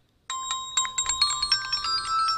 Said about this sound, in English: Let me play the ringtone I'm using.